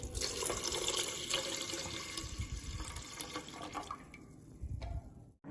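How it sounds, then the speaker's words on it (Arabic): Water runs steadily into a pot of washed, cleaned lentils, making a continuous rushing, splashing stream that stops abruptly near the end. "أول شي عندي حطيت كمية من العدس بعد ما غسلتها ونظفتها زين من الشوائب، وأخلي عليها كمية من الماء وأسلقها"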